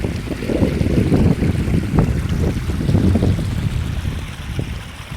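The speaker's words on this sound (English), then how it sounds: "Got a lovely babbling brook here." A babbling brook on Dartmoor moor, a steady rushing and gurgling of water with broad low-frequency wash and some wind noise, loud and continuous throughout.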